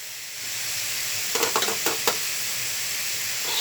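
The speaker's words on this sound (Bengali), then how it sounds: "দেখুন বন্ধুরা, এইভাবে সমানে আমি নেড়ে যাচ্ছি।" Coconut mixture for narkel naru cooks in a pan under a constant hiss, with a short burst of scraping stir strokes partway through; no voices.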